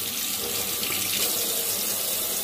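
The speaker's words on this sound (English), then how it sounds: "I'm just going to run it back through the water, rinse this out." Water runs steadily from a tap into a sink while a makeup brush is rinsed under it, giving a close, continuous splashing hiss with no talk.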